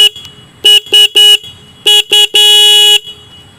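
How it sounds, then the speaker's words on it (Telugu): A KTM Duke 200 motorcycle horn sounds loud and close in six bursts: three quick toots, a short pause, two more, then one long sustained blast. "హార్న్ యొక్క లౌనెస్ అనేది ఒకసారి చెక్ చేద్దాం."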